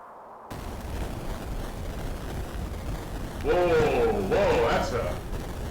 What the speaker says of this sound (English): that's a lot of noise. What was that? An explosion?